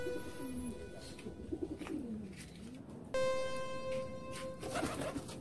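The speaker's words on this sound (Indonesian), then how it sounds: "inilah markas dari burung dara saya" Domestic fancy pigeons coo softly at their roost in low, rolling calls, several birds overlapping, with a steady background hum and a few higher chirps.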